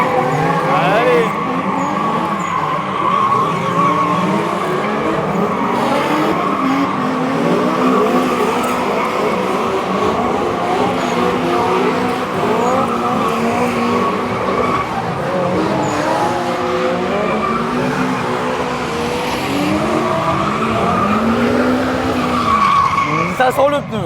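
Cars drifting at a Japan car festival, with continuous loud wavering tire squeal and engine roar sweeping up and down as they circle, crowd noise underneath.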